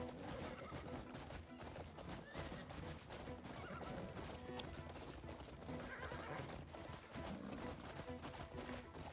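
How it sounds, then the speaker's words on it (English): Rapid clip-clop of galloping hooves with horse whinnies during a video game horse race, over steady game background noise, continuous and fairly loud. "That's the first horse race I won."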